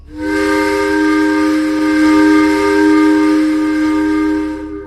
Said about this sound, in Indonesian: terdengarlah suara peluit panjang yang menunjukkan jam tepat pukul 9 malam